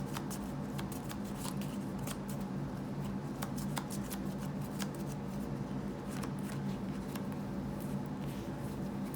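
Yu-Gi-Oh trading cards being shuffled face down by hand, a steady continuous riffling and sliding of card stock with brisk papery flicks, close up and alone throughout.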